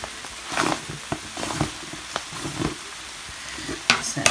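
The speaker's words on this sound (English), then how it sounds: "I've just got a tub of chili powder here, so I'm going to add a little bit of that to the saucepan as well." Chili powder goes into a hot saucepan of rice with chicken and vegetables: a soft, continuous sizzle broken by several short stirring scrapes and clatters, close by, with a sharper burst near the end.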